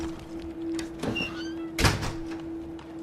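A door slides open with a soft mechanical whir in the video game This War of Mine, then lands with a solid thunk, over a steady electronic hum.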